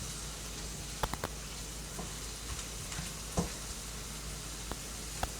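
Mushrooms and barley frying in a skillet, a soft steady sizzle with occasional light pops and stirring scrapes, faint and even throughout with no talking.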